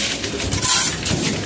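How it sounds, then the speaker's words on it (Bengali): Pigeons in a loft coo in a brief, dense and fairly loud burst of soft throaty calls over a broad background rustle. "প্রতিটা কবুতর কত অ্যাক্টিভ।"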